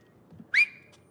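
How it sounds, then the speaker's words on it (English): A single short whistle in the video game It Takes Two, a bright rising tone that holds briefly then fades, clear and alone over a faint low background. "Just whistle."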